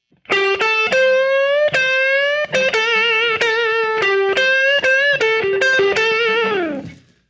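A distorted electric guitar plays a minor pentatonic blues lick of picked and bent notes in quick succession, ending on a sustained note that fades.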